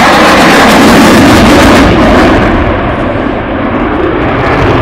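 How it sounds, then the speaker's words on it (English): Italian Air Force Eurofighter Typhoon jet roaring past at an air show in Radom, Poland, a very loud broadband jet blast that fills the clip and eases slightly as the aircraft moves away. "And now in front of you, from left to the right, Eurofighter Typhoon."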